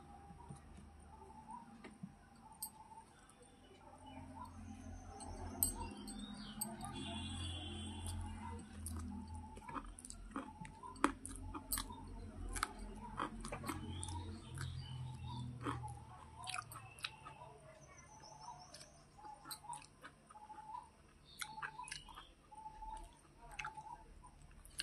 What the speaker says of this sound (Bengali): চলো আমি আমার খাওয়া শুরু করি।